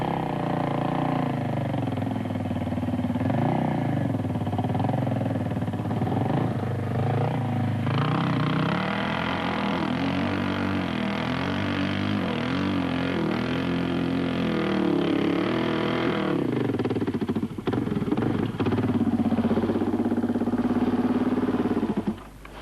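A brand-new Suzuki DR 600 motorcycle engine, prepared for the 1986 Paris-Dakar rally, runs steadily close by, its drone rising and falling as the throttle changes, with a roughly constant loud rumble throughout.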